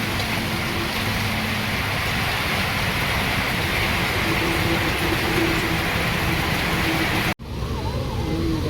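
Heavy rain pours at a bus stand, a loud, steady roaring wash that cuts off abruptly near the end and leaves quieter background sound.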